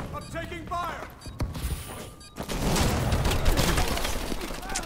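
Gunfire in a shooter video game, with several sharp cracks and a dense crackling burst that covers the second half, mixed with game sounds after an opening stretch of voice.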